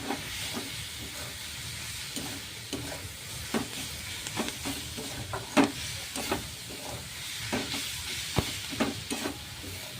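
Onions with salt are sautéed and stirred in a pan, a continuous sizzle and hiss broken by frequent sharp scrapes and clicks of the spoon, close and fairly loud.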